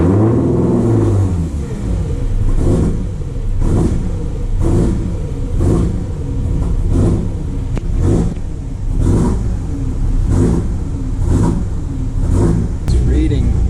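Ford Mustang with a 3.7 V6 runs with repeated throttle blips, roughly one rev surge every second or so, loud and close, with talking over the engine throughout.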